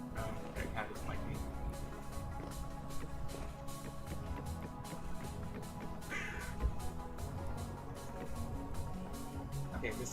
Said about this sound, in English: that cat doesn't like me